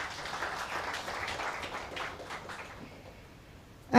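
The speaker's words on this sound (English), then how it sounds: "He deserves another round of applause." Summit audience applausing, a soft diffuse patter of clapping from a seated crowd that fades away over a few seconds, followed by a sudden louder burst at the very end.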